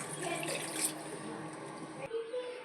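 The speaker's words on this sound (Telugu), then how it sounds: "ఇలా నీళ్ళు వేసి కొద్దిసేపు ఉడకనిద్దాం" Water pours steadily into a pot of crab curry, a continuous splashing rush that stays fairly loud and even for about two seconds before cutting off into a quieter tail.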